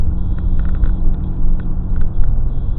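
Engine and road noise inside a car on a short drive, a steady low rumble with slight surges, close and fairly loud, with no talking.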